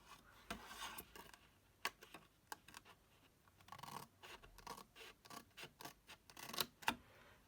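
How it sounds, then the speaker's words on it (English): Large scissors cut along the score lines of card for a small bottle bag, producing a quiet series of crisp snips and scraping rubs at an uneven pace, close by and without speech. "My big scissors are much better because I do it in one little cut."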